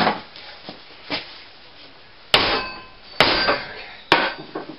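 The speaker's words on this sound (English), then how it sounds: "To hit it with a hammer." A hammer strikes a torque tool to loosen the barrel on a 73-year-old Mosin-Nagant 91/30 rifle, with three sharp metallic whacks in the second half after some softer rubbing and handling sounds.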